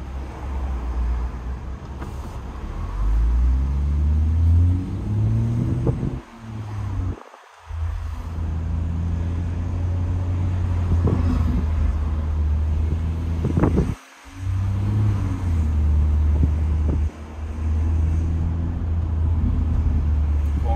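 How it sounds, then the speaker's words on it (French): A BMW M140i drives through Ajaccio traffic with a window open, its engine droning and rising through gears in repeated sweeps, with wind buffeting and a couple of brief dips between shifts. "j'espère que vous n'aurez pas trop de bruit de vent pour vous faire écouter un peu le son de la voiture"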